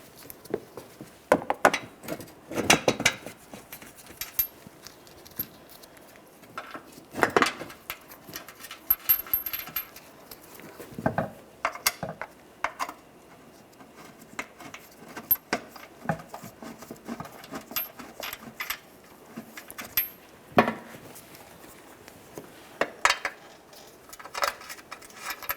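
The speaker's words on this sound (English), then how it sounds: "We're going to start in each of our mounting bolts." Mounting bolts being threaded by hand onto the protective shield of a 2015-2020 Cadillac Escalade during an oil cooler line job, heard as scattered light metallic clicks and ticks at close range, with no talking.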